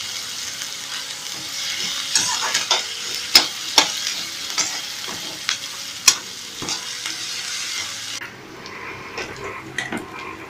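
Asafoetida crackles in hot oil in a pan for rava upma, a constant soft sizzle broken by sharp spoon clinks and scraping stirs against the metal before the frying quiets down near the end.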